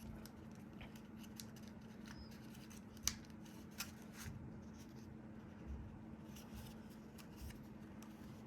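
Quiet crinkling and creasing of paper being folded into an origami scarecrow, scattered soft rustles with a few sharper crisp presses, close over a low steady hum.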